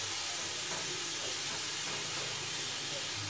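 Spinach frying in a little oil, a steady close hiss and sizzle filling the whole short stretch without pause.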